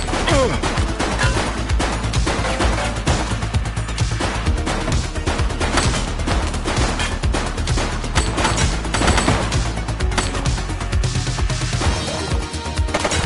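Rapid gunfire bursts and crashing impacts in the police video game The Precinct, dense and loud throughout with brief shouted voice fragments beneath.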